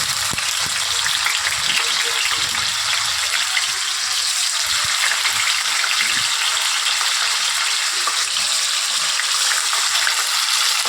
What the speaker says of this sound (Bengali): দিয়ে দিও পনিরগুলো, কড়া গরম করা যাবে না তেল, তাহলে পনিরগুলো পুড়ে যাবে। অল্প অল্প করে দিয়ে ভেজে তুলে নিতে হবে।